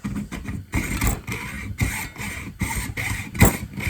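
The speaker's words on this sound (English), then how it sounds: "So I'm just going to use my hacksaw here." A metal-cutting hacksaw cuts a coconut shell in half on a slightly wobbly table, making rhythmic rasping strokes about twice a second, close and fairly loud, with no talking.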